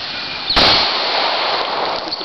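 A single sharp handgun shot at a shooting session, loud and close, with a brief reverberating tail fading over the following seconds under outdoor hiss.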